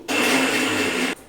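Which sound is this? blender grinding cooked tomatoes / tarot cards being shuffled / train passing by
blender grinding cooked tomatoes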